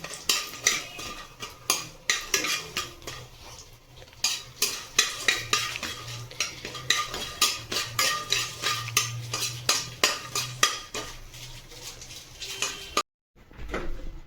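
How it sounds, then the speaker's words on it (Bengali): Lentil dumplings (bori) fry in mustard oil left over from frying pabda fish while a spatula repeatedly scrapes and stirs the pan, giving rhythmic metallic clinks over a soft sizzle, with no talking. "মাছ ভাজা ওই তেলের মধ্যে আমি বড়ি ভেজে নিলাম"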